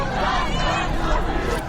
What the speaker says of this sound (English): political slogans against the regime were being heard